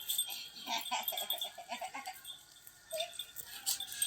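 A goat bleats in a quick, quavering string of cries, fairly close, then gives one shorter bleat after a pause.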